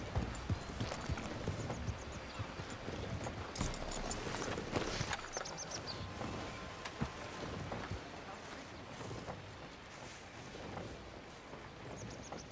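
Horse hooves clip-clopping in Red Dead Redemption 2, a steady walking rhythm of crisp, fairly close hoof strikes that continues throughout, with quieter background ambience.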